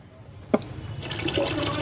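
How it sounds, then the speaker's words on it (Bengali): Tap water running while raw meat is washed in a home kitchen, starting after a sharp knock and swelling into a steady splashing flow, close by, with no talk. "মাংসটাকে ধুয়ে নেই"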